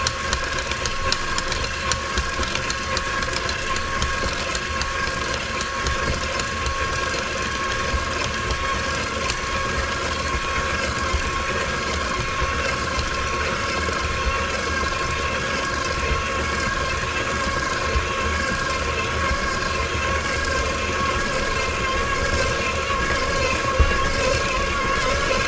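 An electric stand mixer whirs steadily at low speed for a long stretch, beating blueberry tart dough as flour is slowly added, with a constant mechanical hum and faint rattling and no talking.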